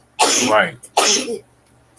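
Two sharp, loud bursts of a person sneezing close by, about a second apart, during a talk-show style conversation.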